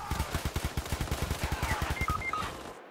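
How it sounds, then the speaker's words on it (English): A rapid burst of automatic gunfire rattles off in a steady, evenly spaced string of close, sharp shots in the Roblox Cold War video game, ending abruptly after about two and a half seconds. "There's a guy on B shooting into A."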